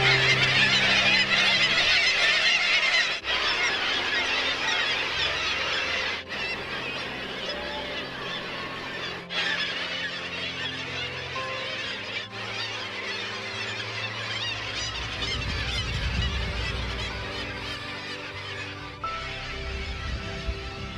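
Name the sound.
seabird colony calling at Gull Island, Homer, Alaska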